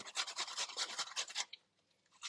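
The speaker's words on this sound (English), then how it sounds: "Just grating the onion." Onion grated on a grater, about a dozen quick rhythmic rasping strokes close up, then a brief quiet pause and one more faint stroke.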